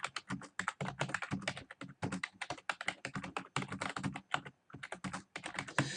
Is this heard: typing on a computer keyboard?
yes